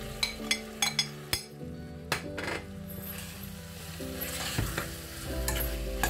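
Boiled potatoes with fenugreek leaves, green chillies and spices are stirred and fried in a pan on a slow flame: a quick run of spatula clinks against the pan, then a continuous close sizzle with scraping.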